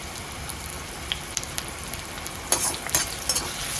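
Onion and curry leaves fry in oil in a pan, a soft steady sizzle with scattered crackles and a few louder stirring scrapes toward the end, heard close with no voices.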